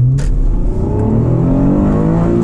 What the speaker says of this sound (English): every rev match you hear in this car is actually me doing it.